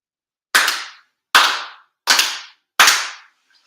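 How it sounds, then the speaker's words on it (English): Four sharp, resonant ritual hand claps at a spring memorial prayer ceremony, evenly spaced and close, each ringing out briefly into a quiet room. "Chido haire 4 sincere claps."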